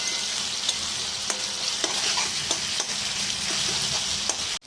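Fish frying slowly in its own oil in a pan, a steady close sizzle with occasional crisp pops and stirring taps, ending abruptly.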